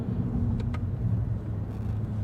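Toyota Corolla Altis 1.8G with a CVT being driven downhill in manual shift mode, a steady low cabin rumble of engine and road noise with a couple of faint clicks.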